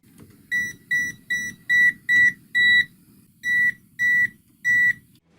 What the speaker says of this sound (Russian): иногда только подносишь к фазе, начинает пищать коротко и писать лайф на экране